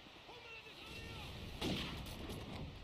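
Gunfire in a competitive Call of Duty 4 match, a quick burst of sharp shots around the middle, faint beneath a low background hum.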